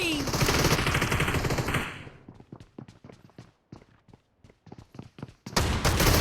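Rapid video-game shotgun blasts from an M1014 in a hangar map: a dense burst of gunfire, then a quick run of separate sharp shots spaced out, before another loud burst at the end.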